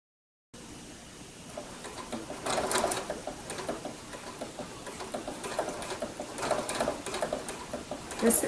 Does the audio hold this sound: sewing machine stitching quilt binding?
yes